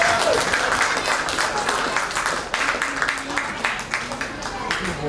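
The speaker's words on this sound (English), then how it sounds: "another thunderous round of applause" Audience at a Fiji Day celebration in Auckland breaking into sustained, dense applause, steady clapping from a large crowd filling the room with some voices mixed in.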